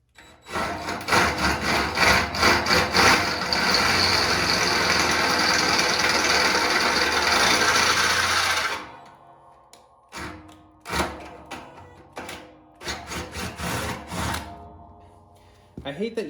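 A power drill bores holes in John Deere 54-inch Quick Hitch blade extensions, a loud continuous grinding whine for about eight seconds, then several shorter drilling bursts with pauses between them.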